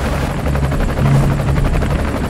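A helicopter flies close by in an action film scene, its rotor chopping in a rapid, steady rhythm with a loud, continuous engine drone and no voices.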